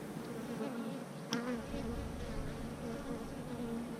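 Honeybees hum steadily inside an opened Apimaye hive during an inspection, a dense, continuous close buzz with individual bees droning past, no talk over it.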